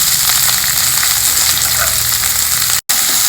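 Chopped onions, green chilli and curry leaves frying together in a pan make a constant close sizzle, an even bright hiss with a momentary dropout near the end.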